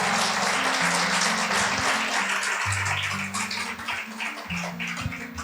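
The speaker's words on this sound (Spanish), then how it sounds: "Brinden un fuerte aplauso a Dios de toda esperanza." Strong, sustained applause from a church congregation at a sermon, dense clapping filling the room with steady loudness and fading slightly toward the end, with music playing underneath.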